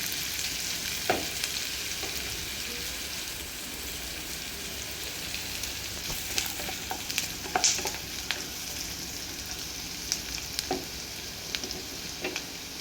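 Onions frying in a pan for a Madras-style chicken curry, a steady broadband sizzle holding through the whole stretch, with scattered scrapes and clicks of stirring rising above it, no voices.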